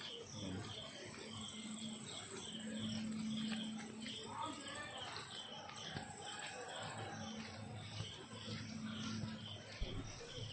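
Crickets chirp at night on the dark Tarapith cremation ground, a continuous high-pitched trill over faint ambient murmurs and distant low sounds, fairly quiet throughout.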